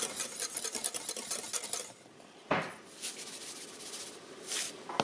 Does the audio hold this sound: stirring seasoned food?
yes